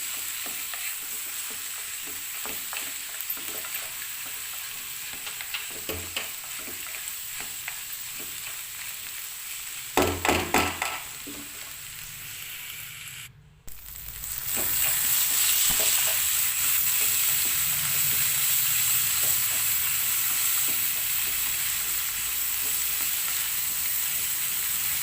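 Bitter gourd (kakarakaya) fries in a pan under repeated stirring, a close sizzle with scraping strokes, a brief pause partway, then a louder steady fry.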